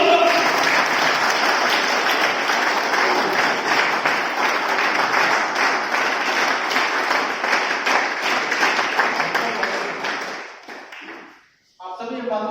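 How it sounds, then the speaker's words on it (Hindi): A seminar audience at a leadership programme in Ramnagar, Uttarakhand, claps loudly and steadily to welcome a speaker on stage. The applause fades out near the end, and a voice follows. "जोरदार तालियों से सर को स्वागत करें।"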